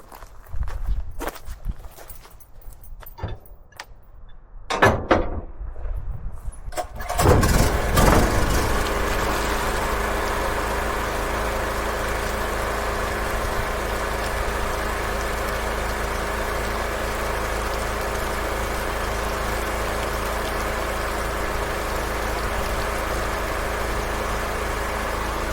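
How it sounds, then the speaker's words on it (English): A generator starts up after some footsteps and handling noises, then settles into a steady, loud, droning idle that runs without a break to the end. "Let's get that generator on."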